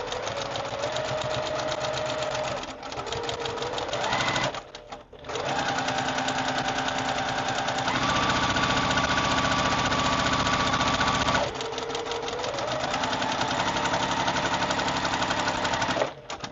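A sewing machine hums and rattles almost continuously while piecing a sampler basket quilt block, close and loud, with brief dips where the stitching slows or pauses.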